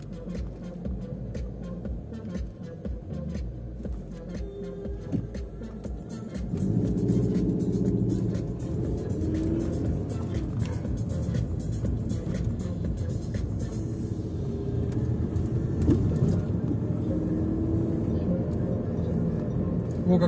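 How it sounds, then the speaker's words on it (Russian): A Ford Mustang drives past on a street in France, its engine rumble swelling loud and steady midway and holding to the end, with people talking nearby over it. "О, какая машина, сними-ка."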